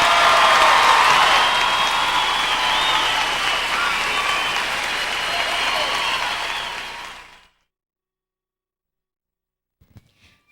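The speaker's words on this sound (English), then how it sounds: "Ladies and gentlemen, now you can applaud the class of 1999." A high school graduation audience of family and friends applauds the class of 1999, loud sustained clapping with some cheering that holds for about seven seconds, then cuts to near silence with a few faint knocks.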